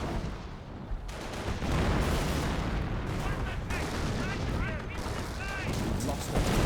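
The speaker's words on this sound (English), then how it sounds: "AT guns firing over here." Anti-tank guns firing during a Company of Heroes 1 battle, with repeated sharp cannon reports and explosions over a dense, continuous wash of game combat noise.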